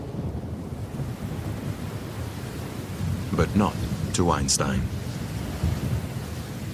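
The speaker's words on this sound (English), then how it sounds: "the November rains bring a brief wash of relief to the land." Heavy rain with a deep rumble of distant thunder sweeps across the African savanna in November, a constant broad wash of wind and downpour, while someone speaks briefly over it.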